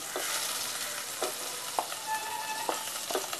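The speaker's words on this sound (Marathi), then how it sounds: "त्याच्यानंतर त्याच्यामध्ये आपण टोमॅटो आणि कांदा टाकूया" Tomato and onion frying in a pan for a spicy brinjal and prawn curry, with a steady close sizzle broken by several soft stirring scrapes at irregular intervals.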